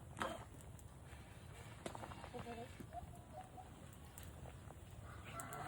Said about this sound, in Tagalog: Ay, yung manok.